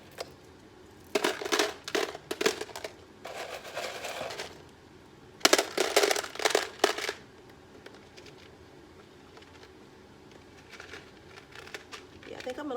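Small pebbles are poured into a recycled plastic water bottle planter in bursts of rattling, clattering grit, loud and close, with quiet pauses in between.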